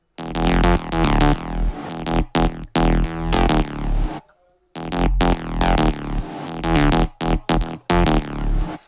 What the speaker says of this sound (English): And yeah, I added a reverb automation here